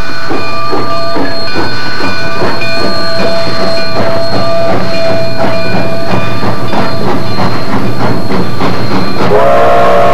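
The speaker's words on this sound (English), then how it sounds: "A shortened train continues on to Montrose through the Black Canyon of the Gunnison." A Denver & Rio Grande narrow gauge train running through the Black Canyon of the Gunnison, very loud rhythmic wheel clatter on the rails with a sustained whistle-like tone over it for most of the run, from an old film soundtrack.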